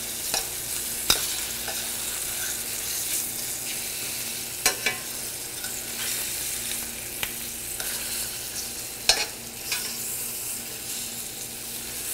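Meat for osso bucco browning in a pan gives a quiet, steady sizzle, broken by a few sharp clicks and scrapes from a utensil turning the pieces.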